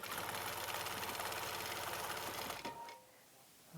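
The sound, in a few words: sewing machine sewing minky quilt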